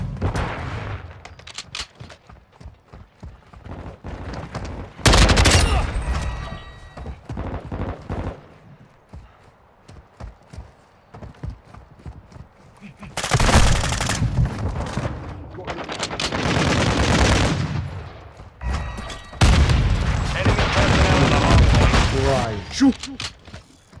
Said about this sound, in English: Now these pistols shred.